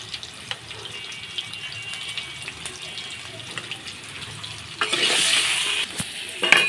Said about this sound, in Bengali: এখন আলুগুলো দিয়ে দেব। আলুগুলো ভালো ভালো ভাজা করে নেব।